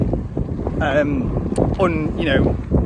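Gusty wind on a hill buffets the microphone in a low roar, with brief whistling, warbling tones rising and falling over it.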